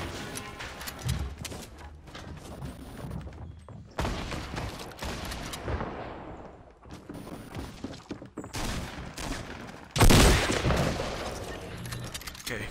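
Gunfire from a Fortnite Battle Royale squad match: scattered bursts and single shots come and go over several seconds, some faint and distant, with one loud, close volley near the end.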